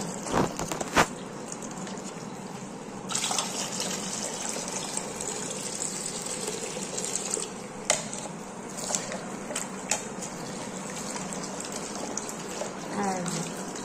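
Tap water runs and splashes continuously while food is rinsed and rubbed by hand in a home kitchen, with bursts of gushing and clattering and a voice talking over parts of it.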